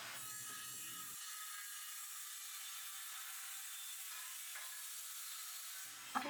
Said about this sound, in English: To cut the pieces to size, I'm using my skill saw.